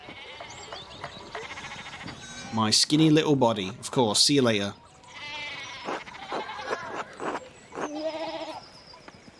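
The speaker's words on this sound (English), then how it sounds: "we need to get those sheep under control" Sheep in the video game Pentiment bleat in several loud, wavering calls, some overlapping, between and under spoken dialogue.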